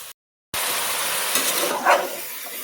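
Washed vegetable pieces for a village-style curry drop into hot oil after a short silence, and a loud, continuous sizzle follows with faint stirring scrapes. No one speaks.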